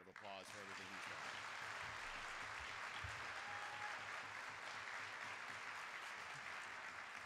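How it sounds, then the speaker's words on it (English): Audience applause at a professional association breakfast, sustained dense clapping from a large crowd throughout, entering after a brief voice at the start and continuing evenly. "I think you should give Jim a big round of applause for everything he's done."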